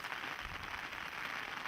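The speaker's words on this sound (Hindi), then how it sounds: "बारिश तेज हो रही है।" Rain falls steadily in the open grassland of Velavadar Blackbuck National Park, a faint, even hiss with no distinct drops standing out.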